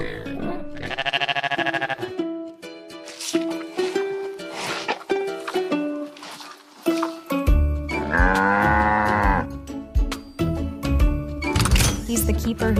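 Cattle on a farm moo loudly, with several long, drawn-out calls spaced across the stretch, close by and mixed with other livestock grunts and sounds.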